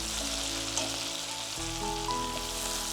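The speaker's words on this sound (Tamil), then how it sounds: "பாவக்காய் நல்லா வதங்கிடுச்சு." Bitter gourd sautéing in a pan gives a soft, even sizzle that stays steady throughout, with tonal background music underneath.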